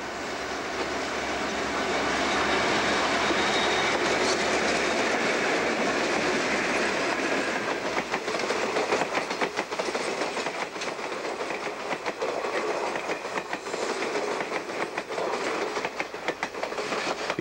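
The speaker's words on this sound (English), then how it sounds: "the day's first northbound is number 3, the tour train" An Algoma Central Railway passenger tour train rolls past steadily and loudly, wheels clattering on the rails in a continuous rhythmic rush that lasts the whole time.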